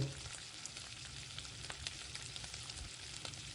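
Chicken frying in white oil with a dry red chili and bay leaf, a dense constant crackling sizzle with faint stirring taps, heard close and fairly quiet, no speech.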